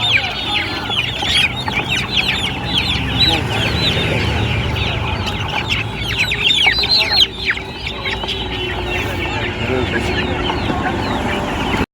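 A crowd of chickens in a box clucks and squawks close by, busy overlapping calls continuing throughout with some muffled voices underneath.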